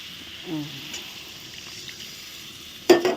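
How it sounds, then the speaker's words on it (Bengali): Cauliflower curry cooking with spices in a pan gives off a soft, steady sizzle. A voice briefly sounds early on, and a louder utensil clatter comes near the end. "এই দেখো ফুলকপি আমার এই যে সুন্দর কষানো হয়ে গেছে একবারে দেখো মশলা দিয়ে"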